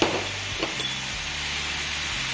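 Cauliflower sautéing in a pan for a gluten-free kısır gives a steady soft sizzle throughout, with a few light stirring clinks and scrapes near the start, no voices.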